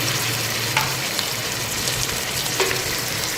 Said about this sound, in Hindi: अब अच्छे से इसको 1 मिनट के लिए फ्राई कर लूँगी